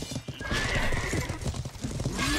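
Horse hooves clip-clop steadily in a Conqueror's Blade PvP battle, loud and close, with a neigh among the busy hoofbeats and dense game noise over the whole stretch.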